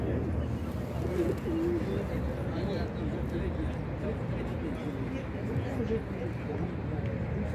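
At a busy bird market, a Nikolaev breed pigeon coos softly amid steady crowd murmur, with people talking nearby over the low, continuous hubbub.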